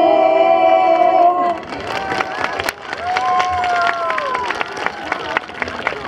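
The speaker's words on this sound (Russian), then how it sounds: "Ваши аплодисменты" A concert audience at a Victory Day performance of wartime songs breaks into sustained clapping as the closing sung note fades, with a voice sounding over the applause.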